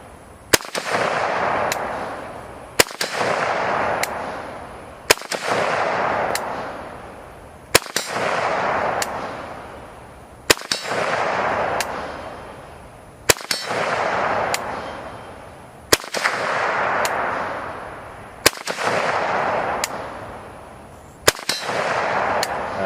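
AK-47 rifle firing sharp single shots at a steady pace, about one every two to three seconds, each crack loud and close with a long echoing boom trailing off before the next.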